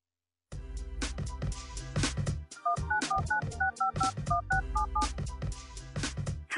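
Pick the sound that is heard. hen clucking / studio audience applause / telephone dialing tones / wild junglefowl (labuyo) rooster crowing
telephone dialing tones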